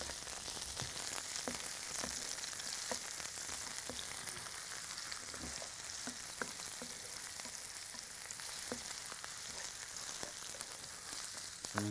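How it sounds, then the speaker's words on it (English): Garlic, onions and green peppers fry in a pan with a faint continuous sizzle, dotted with small pops and occasional light stirring clicks, quiet and close with no talk. "And already you can smell the garlic and onions just popping."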